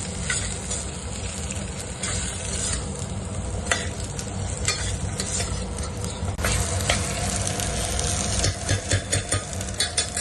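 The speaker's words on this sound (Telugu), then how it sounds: "మంచిగా, కిందకి మీదకి మిక్స్ చేయాలి. ఎందుకంటే onions flavour and ginger garlic flavour అనేది దీనికి పట్టుకోవాలి." Onions, ginger and garlic sizzle steadily in hot oil for a vegetable curry, with a spoon scraping and stirring through the pan in a continuous close, dense hiss and occasional clinks; no voices.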